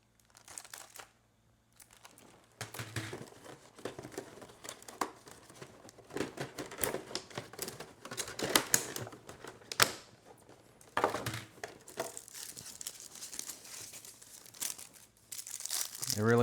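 Plastic protective wrapping crinkling and rustling in bursts while a Hot Toys Black Widow Artisan collectible figure is unboxed, close and loud at times, with brief pauses between the handling sounds.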